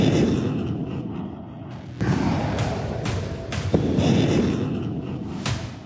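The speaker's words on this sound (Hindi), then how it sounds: "हाल ही में इस कोर ने T-90 टैंकों के साथ लाइव फायरिंग अभ्यास किया" T-90 tanks firing during an army live-fire exercise in high terrain: several heavy booming shots, some near and sharp, others more distant, ringing out over a steady rumbling background.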